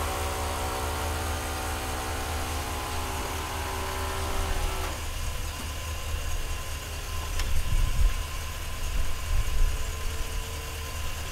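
A 1965 Lincoln Continental convertible engine runs at a steady idle, a low continuous rumble whose tone shifts partway through, with some rougher mechanical vibration near the end.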